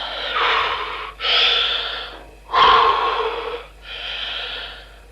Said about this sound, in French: Je m'allonge et je contrôle ma respiration.